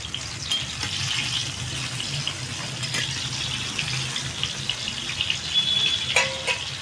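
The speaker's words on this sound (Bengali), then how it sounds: "এদিকে দেখো তেল গরম হয়ে গেছে, দিয়ে দেবো বেগুনগুলো। বেগুনগুলো ভালো করে ভেজে নেব।" Eggplant pieces fry in hot oil for a doi begun dish, giving a continuous close sizzle with scattered small crackles and pops.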